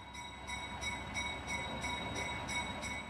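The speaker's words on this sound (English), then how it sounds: "Today, we are going to ride the New Hope Valley Railway." A New Hope Valley Railway heritage train runs steadily nearby, with a rhythmic clack of wheels over rail joints repeating about every half second beneath a continuous rumble and a faint high tonal whine.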